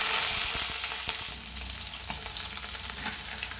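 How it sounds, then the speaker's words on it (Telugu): Green chillies fry in hot oil for an egg curry, a steady close sizzle with a few light stirring knocks against the pan. "ఇప్పుడు ఆయిల్ వేడెక్కింది కదండి, ఇందులో పచ్చిమిర్చి వేసుకోవాలి."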